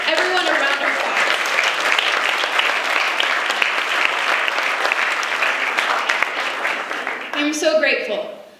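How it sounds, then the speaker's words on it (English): Sustained applause from an audience of river-conservation volunteers fills a room, steady and dense for about seven seconds, then briefly dips before a short burst of voices and a final flurry of clapping. "Let's give everyone a round of applause"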